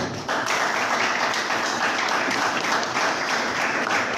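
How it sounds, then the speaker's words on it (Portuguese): A church congregation at an Assemblies of God missions service applauds continuously, a dense, steady wash of many hands clapping that fills the space from start to finish. "as palmas louvam ao Senhor"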